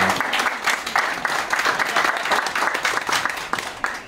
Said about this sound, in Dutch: mij nog een applaus voor Roger.